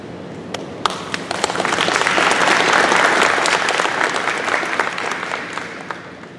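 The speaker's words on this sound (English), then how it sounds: "round of applause, please" A crowd at a community meet-and-greet with a police chief breaks into applause, scattered claps swelling into a full, steady round of clapping that fades slightly toward the end.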